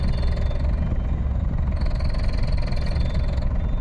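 A car's engine runs steadily at idle on a roadside, a continuous low rumble that holds an even level throughout, close by and alone, with no voices.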